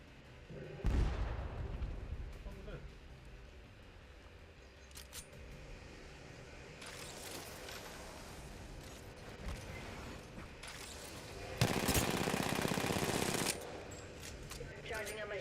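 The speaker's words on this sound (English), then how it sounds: "Taking fire, brothers." Gunfire and mechanical clatter from a battle in the video game Apex Legends, with bursts of shots, a loud burst near the start and a dense stretch of rapid fire toward the end, over steady game noise.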